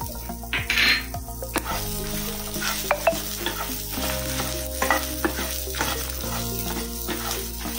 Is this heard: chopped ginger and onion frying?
yes